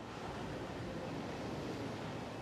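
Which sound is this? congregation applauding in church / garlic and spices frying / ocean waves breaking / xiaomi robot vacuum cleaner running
ocean waves breaking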